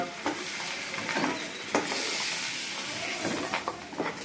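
Chopped onions frying in mustard oil in a wok after prawns were fried, a constant hissing sizzle broken by intermittent stirring scrapes and knocks, close and alone without talk.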